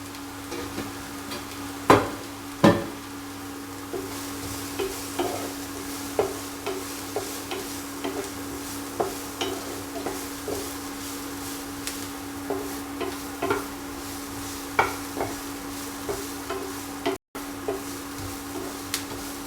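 Red dry chili fries in a pan while being stirred: a soft, steady sizzle broken by regular scraping knocks of the utensil against the pan, with a couple of sharper clanks near the start.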